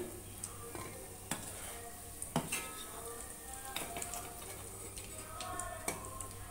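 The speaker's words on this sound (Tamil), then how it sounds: "இன்னும் கொஞ்சம் சிக்கன் இருக்குது அதெல்லாம் நான் வறுத்து எடுத்துக்கிறேன்" Chicken pieces frying in a pan for chicken fried rice, a steady soft sizzle running throughout with sharp clinks of a utensil scraping and tapping the pan at irregular moments.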